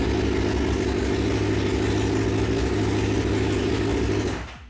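A Suzuki GSX-R 600/750 motorcycle engine runs steadily with a dense, even roar, close and loud, then cuts off abruptly at the end.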